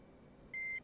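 A sharp, steady electronic warning tone sounds in a flight video game, one long beep followed by a short second one after a brief gap, over a faint low hum.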